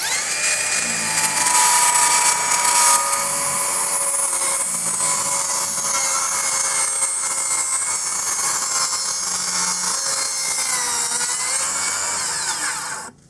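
A power saw cutting a deck board guided along a clamped straight edge, giving a loud continuous high whine that holds steady throughout, then drops away sharply at the very end.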